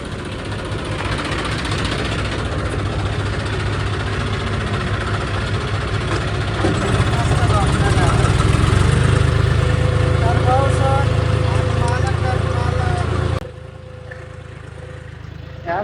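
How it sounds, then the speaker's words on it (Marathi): Tractor engine idles with a low, steady rumble that swells slightly before cutting off near the end, with a person speaking over it. "चला आता आतमध्ये नेऊ ट्रॅक्टर."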